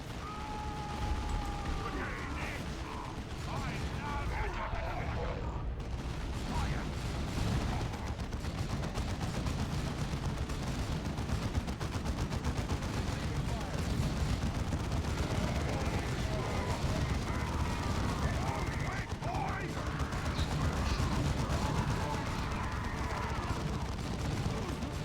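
Warhammer 40k Dawn of War 2 battle gunfire, dense continuous shooting and explosions layered with in-game shouted voices and loud combat noise throughout.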